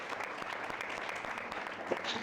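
Scattered audience clapping at a Bible and business masterclass panel discussion, soft and thin, a few hands patting at a low level with faint voices underneath.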